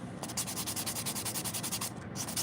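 Rapid rhythmic scraping of a buffer over an acrylic press-on nail, shaped to an almond and smoothing out drill scratches, steady back-and-forth strokes close up and fairly quiet, with no talking.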